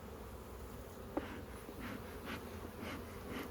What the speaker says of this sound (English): So the bees, yeah, they're starting to get a little testy.